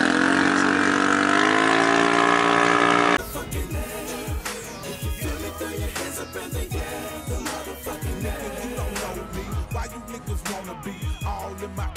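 A Mercedes-Benz E55 AMG W210 accelerates hard in a race against a moped: a loud, sustained engine drone for about three seconds, then a sudden drop to quieter rumbling road noise broken by sharp clicks and knocks.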